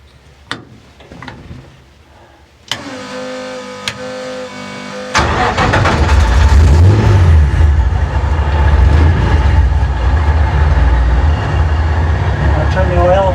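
A GT3 road race car engine cranks after a few clicks and knocks, catches and fires up, then settles into a loud, rough running idle that continues to the end.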